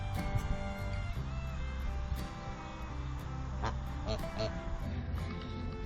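Geese honk and quack repeatedly near a farmyard flock of hens, the calls rising in bursts over a steady low background hum.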